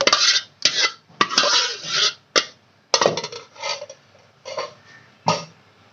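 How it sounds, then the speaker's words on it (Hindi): Custard being mixed in a bowl for lab-e-shireen, heard as a series of close, uneven scraping and clinking bursts of a utensil against the bowl, separated by short pauses. "इसमें मैंने डाल दिया कस्टर्ड और इसको करेंगे थोड़ा सा अच्छे तरीके से मिक्स"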